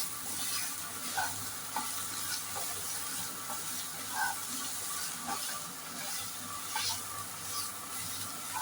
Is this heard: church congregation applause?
no